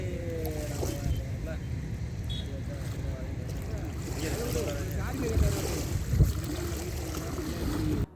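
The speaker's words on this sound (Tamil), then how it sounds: "மதியத்துக்கு மேலே பார்த்தீங்கன்னா பயங்கரமான ஒரு அலையும் காற்றும் வந்துருச்சு" Strong wind and choppy waves on a village lake, a steady, loud rush of wind noise over lapping water that fills the whole span, with a few louder gusts near the end.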